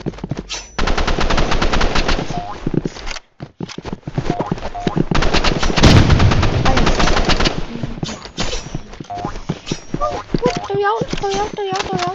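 Rapid automatic assault rifle fire from a Roblox shooter game, loud and close, continuous bursts with brief pauses, layered with other gunfire and game effects.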